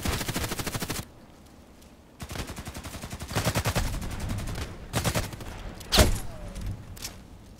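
Rapid automatic gunfire in Contract Wars: loud, rhythmic bursts of shots, a pause, then longer sustained strings and a sharp single crack near the end, all close and without voices.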